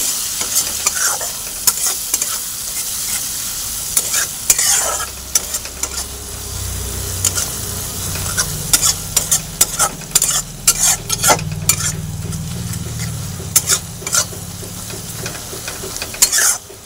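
Onion, chili, turmeric, cumin powder and ginger-garlic paste frying in a pan, a loud continuous sizzle broken by frequent sharp clinks and scrapes of a spoon stirring against the metal.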